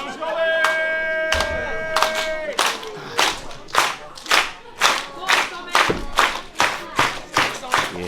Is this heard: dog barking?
no